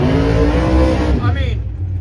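A race car engine revving hard near 5,500 rpm. It sounds close and loud with a strong harmonic whine, then drops away and settles into a lower idle.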